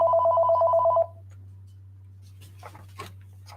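A telephone rings with a steady electronic trill for about a second, then stops, leaving a low hum and a few faint rustles.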